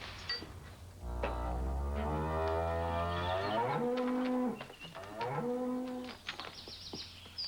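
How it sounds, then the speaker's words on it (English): A cow in a television commercial gives a long, deep, resonant moo that swells and bends in pitch, followed by a second drawn-out lowing call, loud and clear with no talking. "that cow is no longer with us"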